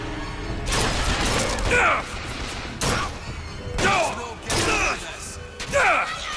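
Gunfire striking the player in BioShock Infinite, arriving in several loud, harsh bursts of impacts and metallic clatter separated by short gaps, close-up.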